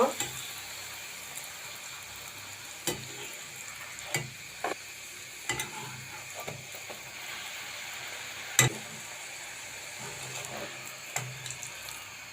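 Luchi puffs deep-fry in hot oil with a steady bubbling hiss, broken by scattered clinks and scrapes of the utensil and one sharper knock midway.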